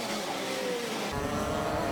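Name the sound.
racing karts with TKM and Rotax engines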